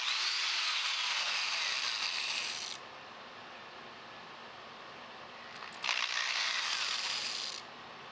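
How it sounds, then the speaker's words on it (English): A power drill bores through a pipe while building a truck flagpole system, a high whirring run lasting a few seconds, a pause, then a second burst, close and moderately loud. "And we're just going to drill through."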